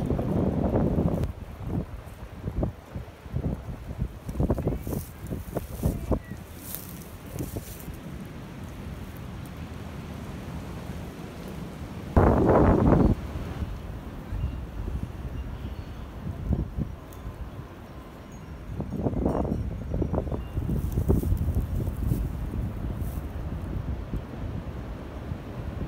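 Strong gusting wind from Winter Storm Riley roars and buffets the microphone for a long stretch, rising in heavy bursts with rumbling low thuds.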